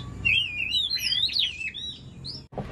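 A contest songbird sings close and loud, a rapid run of bright whistled chirps and trills that rise and fall for over two seconds before cutting off abruptly.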